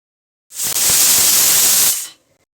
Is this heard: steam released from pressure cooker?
yes